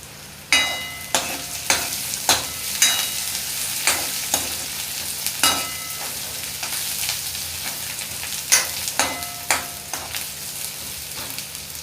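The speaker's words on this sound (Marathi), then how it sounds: "कांदा आता आपला व्यवस्थित फ्राय झालेला आहे" Onion frying in a pan with a continuous sizzle, broken by repeated sharp scrapes and knocks of stirring at an uneven rhythm.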